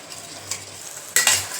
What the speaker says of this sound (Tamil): இப்போ இதை மட்டும் லைட்டாக கிண்டி விடுங்க